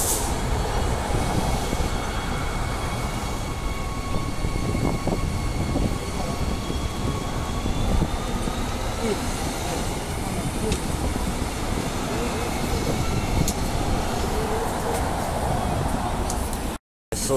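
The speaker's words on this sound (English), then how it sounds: "a train just stopped down at the station as well" A train on the Mandurah Line rumbles steadily nearby, stopping at a station with faint squealing wheels and brakes as it slows, with a voice talking over the noise.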